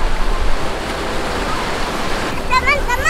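Surf washes steadily onto Seminyak beach in Bali, a continuous broad hiss of breaking waves close by, with high voices and bird-like chirps joining near the end.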